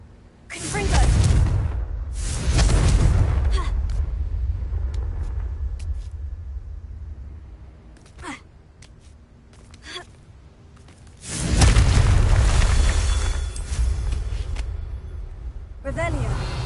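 Confringo blasting-spell explosions in the video game Hogwarts Legacy: two loud bursts with rumbling tails, several seconds apart, each followed by a sustained roar, with quieter crackles and whooshes in between.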